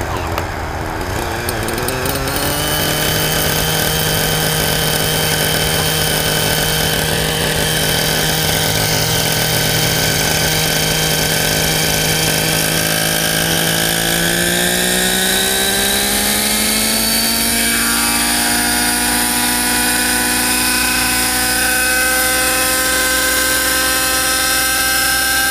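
A nitro-powered T-Rex 600N RC helicopter engine spools up with a steady, loud, continuous whine and buzz, climbing smoothly in pitch partway through and holding high with no talking.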